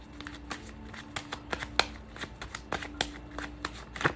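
Tarot cards are shuffled and drawn, a close series of crisp riffling snaps and slaps in an uneven rhythm, with no one speaking.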